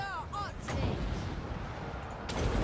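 Units firing in the strategy game Total War: Warhammer II, with heavy distant gunfire and booming artillery rumbling over the battlefield ambience, along with some faint battle cries.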